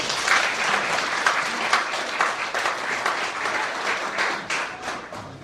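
An audience at a book launch in a small hall applauds to welcome a senior pastor, a dense, steady wash of many clapping hands sustained throughout without any talking.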